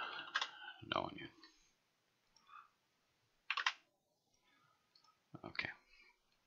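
Computer mouse clicking on an EPOS point-of-sale system, a few sharp, quiet clicks spaced irregularly with soft sounds between them in a quiet room.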